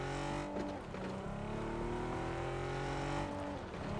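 A car engine drives steadily in PUBG, a battle royale shooter game, with a loud sustained motor drone whose pitch rises and falls across the whole stretch.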